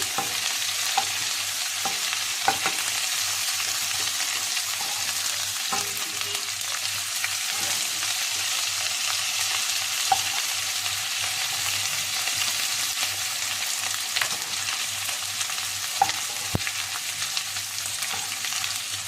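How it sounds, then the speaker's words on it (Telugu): Chicken pieces for Arabian chicken kabsa frying in a pan until golden brown, giving a steady, dense sizzle throughout with occasional faint pops and clicks of stirring, no voices. "బాగా గోల్డెన్ బ్రౌన్ కలర్ వచ్చేంత వరకు దీన్ని ఫ్రై చేసుకోండి."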